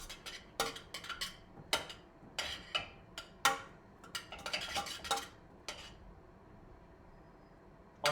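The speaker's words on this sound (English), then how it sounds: "when I'm done stirring my rice" Metal spoon stirring rice in a pot, a series of sharp clinks and scrapes against the pot in an irregular rhythm, close up, fading to quiet near the end.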